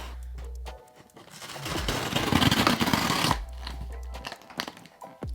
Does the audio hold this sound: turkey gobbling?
no